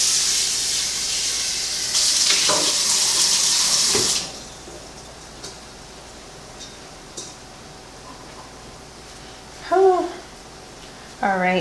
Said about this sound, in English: So I'm going to rinse this out.